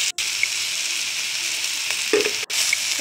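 Sliced okra fries in a pan of tangy tamarind curry just as spice powder goes in, giving a steady, loud, close sizzle with a few soft stirring scrapes and no talking.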